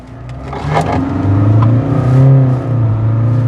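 Kia Sonet GTX+ accelerating hard in sport mode, its engine note rising steadily and droning loudly throughout, with rising pitch sweeps as revs build, heard from inside the car with no talk.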